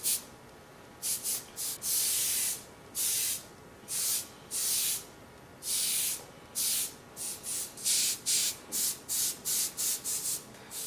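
An airbrush sprays paint to create a faux granite stone finish, giving about twenty short, close hissing bursts of varying length with brief pauses between them, no voices.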